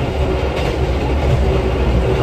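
Steady, loud rumble and rattle of a train carriage running at speed, with continuous low-frequency wheel and track roar and no speech.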